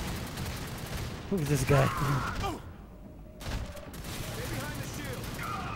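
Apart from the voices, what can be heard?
gunfire in the video game Fuse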